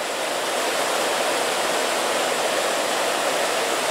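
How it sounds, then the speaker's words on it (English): Windsor Creek, a mountain stream in the Pecos Wilderness, tumbles steeply down a deep cascade, giving a loud, continuous, close rushing roar with no voices. "this stream is really just tumbling straight down the mountain"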